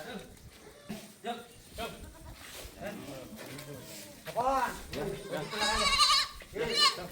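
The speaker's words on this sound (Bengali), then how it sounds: "এই ঘরে ঢুকিয়ে দিলাম আমরা ছাগলগুলোকে সব।" Goats bleat repeatedly inside a farm shed on a rainy day, several loud, close calls overlapping one another, with people talking throughout.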